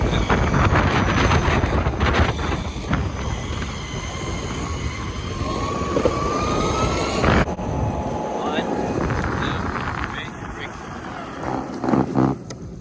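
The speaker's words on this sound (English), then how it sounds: "Okay, I hit the throttle. You hear that?" A SHEHEev Polestar electric skateboard under throttle, a rising motor whine and rolling rumble buried in heavy wind buffeting as it rides along.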